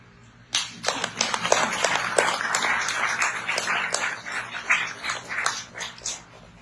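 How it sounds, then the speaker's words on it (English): An audience at a live sustainable-living session in the Bay Area bursts into sustained clapping that starts abruptly and continues, fairly close and steady. "Now you can clap."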